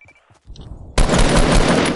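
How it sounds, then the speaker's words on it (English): Rapid gunfire bursts in the DC Universe Online video game, shooting at an enemy: a few faint clicks give way to a loud, continuous automatic volley that fills the second half. "Just keep shooting at him."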